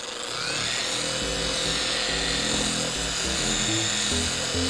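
A Chemical Guys TORQ polisher runs steadily on speed setting 1 against carbon fiber on a Nissan 370Z, giving a continuous motor drone with a wavering, pulsing hum and no break.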